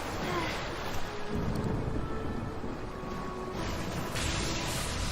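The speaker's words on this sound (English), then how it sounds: "Jeez, that's a storm." A storm in an animated film, with steady loud wind and rushing noise, deep rumbling swells and gusts rising and falling throughout.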